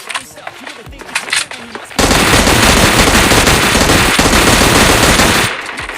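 Gunfire in PUBG bursts out in a dense, loud, sustained volley lasting about three and a half seconds, following a stretch of quieter game sounds and talk.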